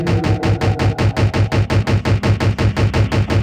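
Automatic weapon fire in an SCP-themed first-person shooter game: a loud, steady stream of rapid shots at an even rhythm of about four per second, continuing without a break and with no voices over it.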